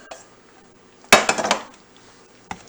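A spatula pushes down into pasta shells in a bowl for Turkey primavera: a sudden cluster of clattering, scraping knocks against the dish after a quiet start, then one last short clink.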